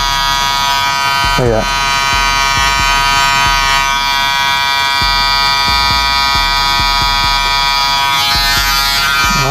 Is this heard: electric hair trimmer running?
yes